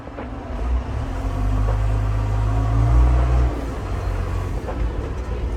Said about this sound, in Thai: เดี๋ยวลองใส่เกียร์วิ่งให้ดูด้วยนะครับ